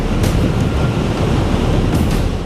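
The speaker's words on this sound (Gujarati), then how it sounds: "અરબી સમુદ્રમાં ઊંચા ઊંચા મોજા ઉછળી રહ્યા છે" Rough Arabian Sea surf pounds the Gir Somnath coast in monsoon swell with high waves and gusty wind, making a loud, continuous roar of breaking water and wind buffeting the microphone.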